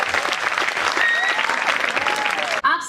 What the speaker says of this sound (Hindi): ज़रा तालियां बजा के बता दीजिए एक बार